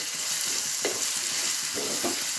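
Tomatoes and whole spices fry in a pan with a steady sizzle, broken by a few scraping stirs of a spoon; the cooking sound is close and continuous with no talk.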